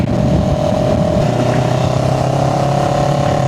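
A CFMOTO CLX 700 Sport motorcycle cruises on a highway, its engine a loud, continuous drone that climbs slightly in pitch, mixed with steady wind rush.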